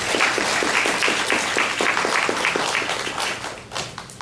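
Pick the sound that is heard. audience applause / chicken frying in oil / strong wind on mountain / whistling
audience applause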